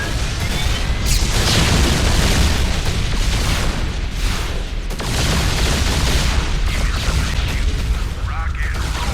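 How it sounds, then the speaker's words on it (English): A StarCraft II Terran battlecruiser's Yamato cannon fires in loud, dense battle audio, with continuous booming blasts and rumbling bursts that last for several seconds without a break. "A popular choice is the Yamato cannon, which does significant damage to single enemy targets."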